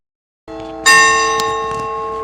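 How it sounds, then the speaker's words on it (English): Church bells in Portugal strike suddenly after a moment of silence, then ring on with a bright, sustained metallic tone that slowly fades, with a second strike layered in. "I like the sound of the bells."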